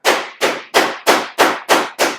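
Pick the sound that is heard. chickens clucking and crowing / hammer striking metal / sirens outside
hammer striking metal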